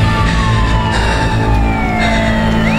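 Loud police sirens wail continuously, with sweeping tones rising and falling over a low vehicle rumble, as they approach in a tense scene from the drama Prison Break.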